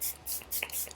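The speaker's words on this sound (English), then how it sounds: "So just mist it a little bit, especially if your foundation dries quick." Makeup setting spray is misted onto a face in a few quick, close, airy spritzes, each a short hiss separated by brief pauses.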